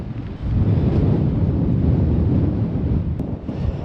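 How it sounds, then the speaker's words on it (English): Strong wind buffets the microphone in a steady, loud roar of low rumbling gusts, with no voices. "it's windy as shit up here, out here"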